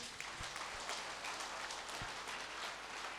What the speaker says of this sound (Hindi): हाथों को ऊपर उठाकर जोर से तालियां बजाइए